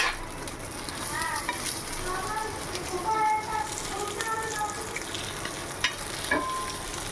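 Three beaten eggs fry into an omelette in a home kitchen pan, giving a steady, close sizzle that runs the whole time with light stirring scrapes and faint background sounds.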